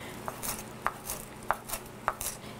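A kitchen knife rough-chops fresh mint and cilantro on a cutting board, with four crisp, evenly spaced knocks against the board and lighter blade scrapes between them, close and clear with no voices.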